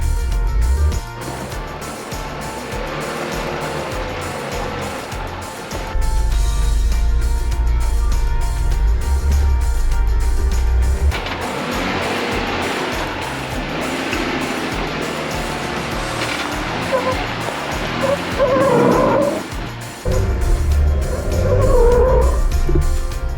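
Jeep attempting a steep slickrock climb on a Moab trail in two-wheel drive, with loud revving engine drone, surges of throttle and rough scraping rumble from tyres on rock, sustained throughout.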